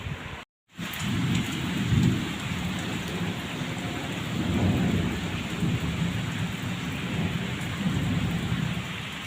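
Heavy morning rain pours steadily on surfaces with low thunder rumbling through it, close and continuous after a brief silent gap at the start.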